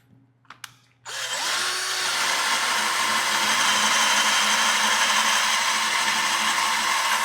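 A cordless drill driving, from a test of budget cordless screwdrivers. It gives a loud, steady whirring motor drone that starts abruptly after a couple of faint clicks and runs continuously.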